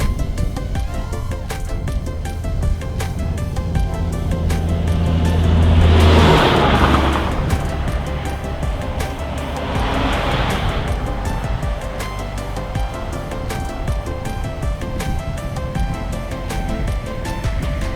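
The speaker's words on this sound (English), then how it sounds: "Oh, there's a truck coming. It's gonna be loud." A truck passes loudly along a road beside cornfields, its broadband roar building to a peak around the middle and then fading, with a second swell shortly after over steady background noise.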